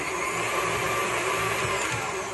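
A stand mixer whirs steadily as it kneads challah dough, a continuous close mechanical drone with no pauses or other sounds.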